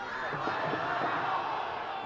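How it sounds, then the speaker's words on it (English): Loud crowd noise at Werner Park during a soccer match, a steady dense roar of many voices filling the stadium, continuous and fairly loud throughout with no single voice standing out. "Loud crowd at Werner Park tonight."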